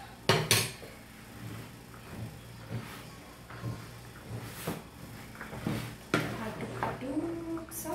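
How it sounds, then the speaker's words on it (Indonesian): A spoon scrapes and clinks against a bowl while a tempeh mixture is stirred at home, several sharp metallic knocks spaced irregularly over quieter scraping, close and moderately loud with no talk. "Aduk-aduk sampai rata."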